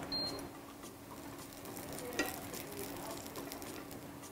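Two tablespoons of oil sizzle in a pan while a quesadilla is being started, giving a faint, steady crackle with a soft tap midway and no speech.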